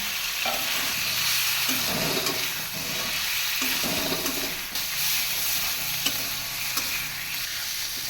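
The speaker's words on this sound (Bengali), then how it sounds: "এখন এর মধ্যে আমি ভেজে রাখা পটল আর আলুগুলো দিয়ে আরেকটু কষিয়ে নেব" Fried pointed gourd and potatoes are stir-fried in a pan with masala, a continuous loud hissing sizzle broken by repeated spatula scrapes and stirs.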